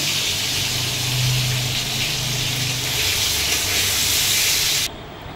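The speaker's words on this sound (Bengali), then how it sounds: "কড়াই তেল দিয়ে তাতে আলুগুলো ভেজে নিলাম।" Potatoes frying in oil in a wok make a loud, dense, steady hiss and crackle close by, cutting off abruptly near the end.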